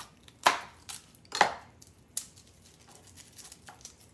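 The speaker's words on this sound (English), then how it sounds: "So I'm just going to cut off this little root end" A knife trims the root end off a garlic clove on a cutting board with two sharp, close chops, then a fainter tap and a few small scrapes and clicks, with no talking.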